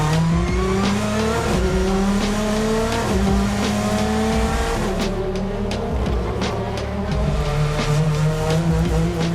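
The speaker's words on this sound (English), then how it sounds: "to get part 2 of the Kwikfit British Touring Car Championship season underway, great getaway by Turkington" British Touring Car Championship race cars launching off the grid at the race start, a loud pack of engines revving and climbing through gears with tyre squeal and overlapping roars throughout.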